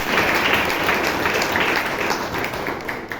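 Audience applause at a Toastmasters meeting, a steady, dense round of clapping from a room of people that holds at an even level from start to finish, with no speech over it.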